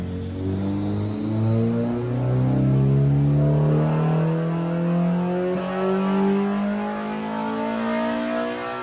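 A Honda B16A engine fitted with ITR cams and CTR pistons revs hard on a dyno during a tuning session, its pitch climbing steadily through a loud, sustained wail before easing off near the end.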